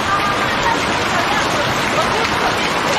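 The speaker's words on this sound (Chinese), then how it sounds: "这大雨来的太突然了。" Heavy rain pours down at an RV camp yard in Xishuangbanna during a sudden storm, a dense, steady, loud roar of water with no breaks.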